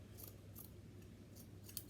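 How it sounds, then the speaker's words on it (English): Scissors snip through a sock from the cuff, recycled into a fabric face mask; several soft, crisp cuts sound close and quiet over low background hum, with no talking. "if you just use your scissor and cut from the cuff"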